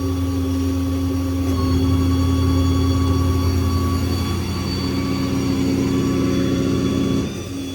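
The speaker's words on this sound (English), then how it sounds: "Turn the air compressor off." Air compressor running on a 2019 Ford F-550 crew cab crane truck with an IMT Dominator bed, a steady loud mechanical drone with strong humming tones, cutting off abruptly near the end.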